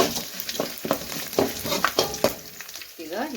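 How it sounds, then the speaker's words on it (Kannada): Crushed garlic frying in a pan for a vegetable stir-fry, with continuous oil sizzle and repeated spatula scrapes and stirs in an irregular rhythm, close and fairly loud. "ಬೆಳ್ಳುಳ್ಳಿ ಸ್ವಲ್ಪ ಫ್ರೈ ಆಗಲಿ"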